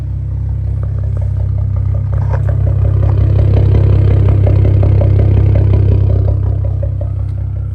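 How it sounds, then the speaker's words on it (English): A BMW F10 535i engine idles loudly and steadily up close, its low rumble slightly uneven and choppy, with a faint rattle on top. "Thing sounds choppy while I was idling."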